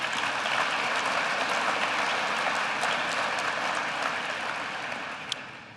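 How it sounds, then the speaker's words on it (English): A lecture audience at Drake University's Bucksbaum Lecture gives a sustained round of applause, full and even, tapering off slightly at the end. "why don't we also give her a nice round of applause,"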